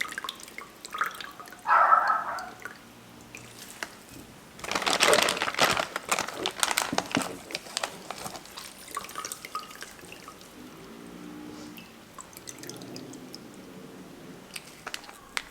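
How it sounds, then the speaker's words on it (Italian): Thawed frozen spinach cubes squeezed by hand, giving wet squelches and bursts of dripping and splashing water, close and intermittent with quieter pauses between squeezes. "vado a strizzare i cubetti che si sono scongelati e le strizzo semplicemente così"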